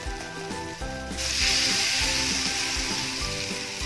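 Spoonfuls of coconut tikki batter hit hot oil and fry with a loud, close, continuous sizzle that swells partway through. A low rhythmic mechanical hum sits underneath.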